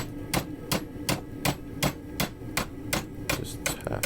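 A hammer strikes hot steel in a steady, even rhythm, about ten ringing taps in four seconds, close by and sharp, squaring up a bent eye or hook in a jig.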